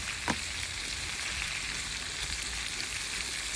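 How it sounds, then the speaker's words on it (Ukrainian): Onion frying in a clay pot set on a clay oven, a steady soft sizzle and crackle running throughout with one brief sharper tick near the start; no voices. "Обсмажуємо нашу цибульку."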